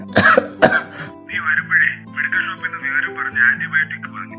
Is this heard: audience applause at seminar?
no